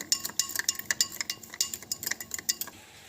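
Spoon clinking and scraping against a bowl while pizza dough ingredients are mixed, a fast run of bright metallic taps and rattles, close and alone.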